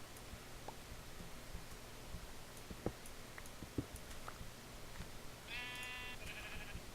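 A Minecraft 1.2.5 sheep bleats twice in quick succession, a clear nasal blat late in the clip over soft background hiss, with a couple of faint clicks earlier and no talking.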